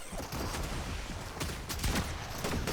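Rapid bursts of gunfire fill a video game played with friends: dense, overlapping loud shots crackling continuously with no pause and no talk.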